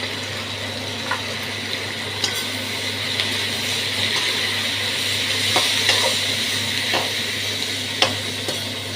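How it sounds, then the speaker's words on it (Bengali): Vegetables with onion stalks and shrimp stir-fried in a pan, a steady close sizzle with occasional sharp scrapes and clinks of the spatula turning the mix, no talking. "একটু ঘুরিয়ে ঘুরিয়ে ভাজতে হবে যাতে সব দিকগুলো ভালো একটু ভাজা হয়।"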